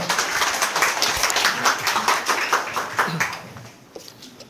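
Audience applause welcoming a high school PE teacher on stage at a student-athlete career talk concert, brisk and steady clapping that tapers off toward the end, with faint voices underneath.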